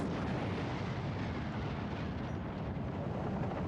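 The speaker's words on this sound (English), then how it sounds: "There's your nuclear explosion, I guess." A nuclear explosion effect in an anime episode of MS IGLOO 2: Gravity Front rolls on as a dense, steady, low roaring rumble, loud and unbroken throughout.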